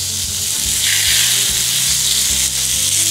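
Steak pan-fried in plenty of hot oil over medium heat, giving a loud, steady, close sizzle with bursts of crackling spatter throughout.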